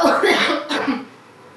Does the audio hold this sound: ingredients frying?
no